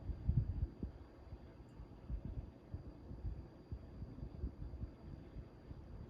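A Tozai 6-inch Deluxe personal fan runs on its low setting with a rattle. A steady, close low hum carries an uneven, throbbing rattle throughout, with no voices.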